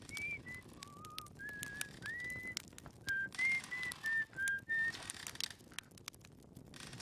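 A character in the video game Outer Wilds whistles a short, wavering tune, with clear note after note over a quiet outdoor ambience of faint chirps and soft background noise, with no speech.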